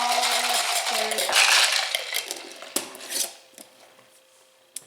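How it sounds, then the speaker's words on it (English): A spoon stirs dirty Coke mixed with coconut cream and lime juice in a glass. Clinking and scraping run at first, then fade to a few sharp, separate taps, with one last faint tick. "Now I just stir it around."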